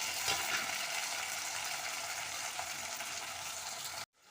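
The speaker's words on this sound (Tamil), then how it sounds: "இப்போ தக்காளி சேர்த்துக்கிட்டோம். நல்லா வதங்கிட்டு இருக்காங்க." Onions, garlic and tomatoes sauté in a clay pot for a tamarind curry with elephant foot yam, giving a steady, close frying hiss that runs evenly throughout and then cuts off abruptly near the end.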